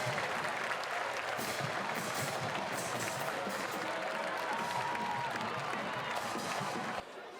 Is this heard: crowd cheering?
yes